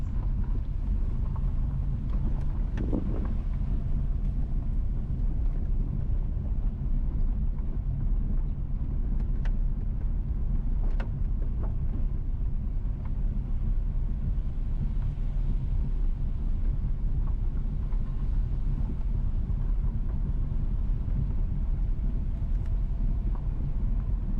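A car drives along Rio Nuevo Lane at Rio Nuevo Resorts in St. Mary, Jamaica, heard from inside as a steady low engine and road rumble with wind buffeting the microphone and occasional faint knocks.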